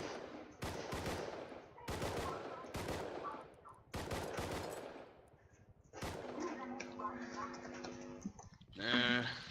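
Bursts of gunfire in the survival game Rust, several sharp volleys in quick succession with distant echoing shots, loud and close, with brief voices between them.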